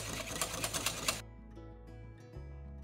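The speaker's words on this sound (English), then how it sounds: "And whisk vigorously until the mixture turns pale and thick." Lemon madeleine batter whisked vigorously in a bowl until pale and thick, a quick rhythmic scraping patter lasting about a second before it cuts off to near silence.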